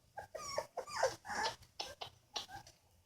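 American bulldog puppies tumble together in a pile, giving close, high whimpers, yips and soft squeals in short overlapping bursts, with no talking.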